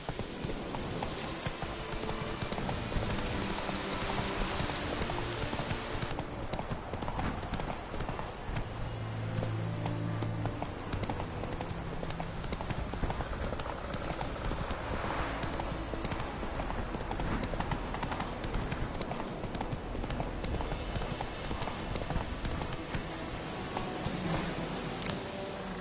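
Roach the horse galloping after being urged on in a video game, continuous dense hoofbeats under a loud, busy game soundscape with wind and ambient noise throughout.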